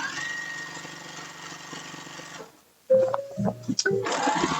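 A domestic sewing machine runs a steady, rapid stitching whir while stay stitching dress fabric, then stops briefly and restarts with short irregular bursts and clicks.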